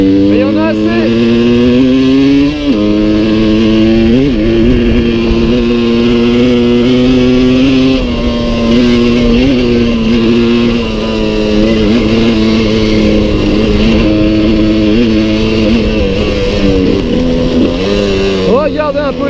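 A Suzuki 125 TSR trail motorcycle from 1996 rides an off-road mountain track, its two-stroke engine droning loud and close with gear shifts and revving rises, and someone talks over it.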